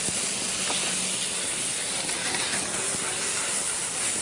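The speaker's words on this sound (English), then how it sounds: "So we're going to cook that just for a second, and then we're going to add some of the sauce." Calamari tentacles cooking in sauce in a hot pan on a morning TV cooking segment, giving a steady loud hiss and sizzle throughout with no break and no talk.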